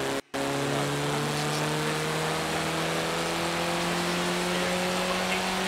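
A car engine in a driving video game holds a steady, sustained drone with rising tones, loud and continuous, with the sound cutting out for a split second near the start.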